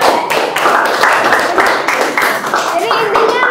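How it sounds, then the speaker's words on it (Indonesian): A group claps along together during an Islamic religious talk on a hadith, loud continuous hand clapping mixed with voices talking over it. "Kita kasih tepuk tangan."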